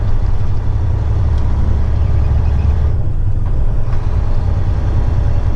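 A heavy-haul truck pulls away from a truck stop, its loud diesel engine droning steadily close by, with a faint hiss in the background and no talk.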